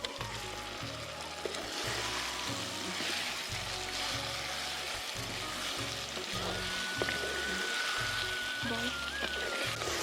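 Chicken meat frying in a pan with turmeric and dry chili powder gives a steady, loud sizzle throughout, with faint stirring scrapes and low rhythmic hum beneath.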